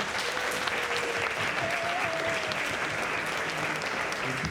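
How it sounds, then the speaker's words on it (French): A crowd at a talent show applauds steadily and loudly, with dense, even clapping that holds for several seconds without fading. "En tout cas, on l'applaudit encore bien fort"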